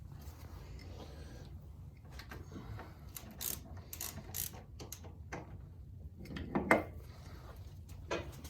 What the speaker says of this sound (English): You gonna tighten up the bottom one?